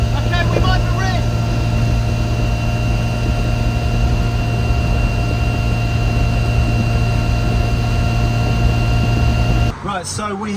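A classic Mini engine idles after its idle mixture was richened, a loud steady droning hum with a constant low tone, the sound shifting abruptly near the end.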